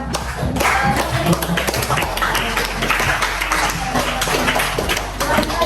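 Scattered clapping from a small audience at a teacher training event, uneven and close, with irregular sharp taps and thumps running for several seconds.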